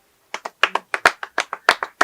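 A string of about a dozen sharp, separate hand claps from a small audience at a ceremony honouring a vice mayor, coming in a brisk, slightly uneven rhythm with no voices over them.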